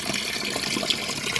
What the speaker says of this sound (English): catching some water on my pigtail to start it off